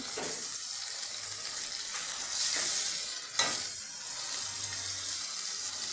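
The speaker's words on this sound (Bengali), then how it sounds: "সামান্য জল দিয়ে কষিয়ে নিচ্ছি চিনি দিলাম" Spice paste of fennel, ginger, bay leaf, chilli and garam masala sautéing in a pan with a little water and sugar, a steady soft sizzle and hiss with occasional stirring scrapes, close and alone without talk.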